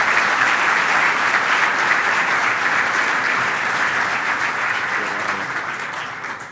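A seated audience at a sports-management talk gives sustained, even applause, a steady wash of many hands clapping that eases slightly toward the end.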